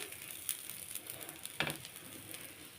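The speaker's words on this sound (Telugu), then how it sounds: "నెయ్యిని ఇలా మొత్తం దోశ మొత్తం వచ్చేలాగా అప్లై చేసుకోవాలి" Ghee dosa frying on a hot pan gives a steady, close hiss and sizzle with brief crackling bursts. No voices are heard.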